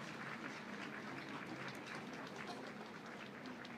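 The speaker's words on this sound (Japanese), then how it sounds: "どうぞ皆様拍手で送ってくださいませ" Audience clapping at an outdoor Japanese election campaign rally, faint and distant, a steady even patter of many hands running throughout with no talk over it.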